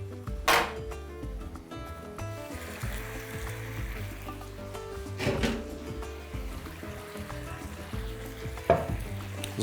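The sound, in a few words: beef and vegetables frying in pan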